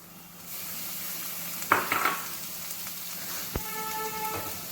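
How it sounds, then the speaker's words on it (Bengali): Tomatoes frying with spices in a pan give a steady low sizzle, broken by a burst of clattering stir and a sharp knock of a utensil on the pan, close by and without speech. "এবার টমেটো দিয়ে দিলাম, 2টো টমেটো পিসা আছে।"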